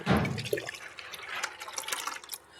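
Banana peel liquid fertilizer being stirred in water, giving brief close sloshing and dripping splashes that settle into faint trickling.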